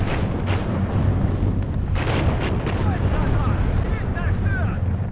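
Tanks trade fire in a WARNO battle with Leopards pushing forward, heavy cannon booms and explosions cracking repeatedly over a constant low rumble, several sharp blasts close together in the first few seconds, then distant whistles and further impacts.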